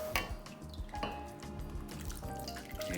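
Stock pours into a shrimp and crawfish seafood cornbread dressing, a close, steady liquid pour and splash running the whole time.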